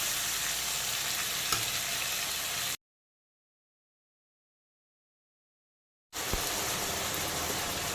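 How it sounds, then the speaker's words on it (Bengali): Chopped onion, tomato and slit green chilli frying in a pan over low to medium heat, a steady bright sizzle that drops out into silence for a few seconds and then resumes. "পেঁয়াজ কুচি টমেটো কুচি আর চেরা কাঁচা লঙ্কাটাকে ভাজা ভাজা করে নেব"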